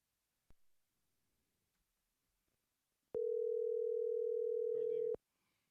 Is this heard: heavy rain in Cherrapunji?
no